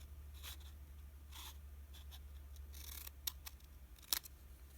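Scissors cutting paper while making a purse-shaped journal, a few short crisp snips spaced out over a quiet room with low background hum.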